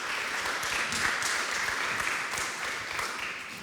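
An audience applauds steadily after a business conference talk on ticketing and live entertainment, a dense, even wash of many hands clapping that holds its level for the whole stretch.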